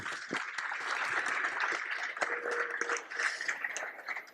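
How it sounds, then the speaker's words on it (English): Audience applause after a talk on climate tech investment, a dense patter of clapping from many hands, moderately loud and steady throughout. "I think they all really deserve a round of applause"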